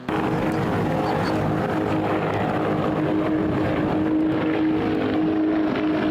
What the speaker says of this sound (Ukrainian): Спеціально для хлопців влаштували святковий проліт літаків, на яких вони навчалися.